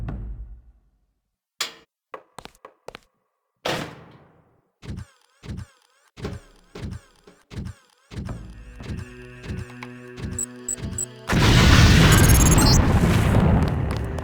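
A LAM explosive mine in the video game Deus Ex, during the UNATCO training course: a series of short thuds and knocks builds up, then a loud sustained explosive roar bursts in near the end.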